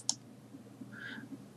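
A single sharp computer mouse click right at the start while installing software, quiet and close, followed by faint room noise and a soft brief tone.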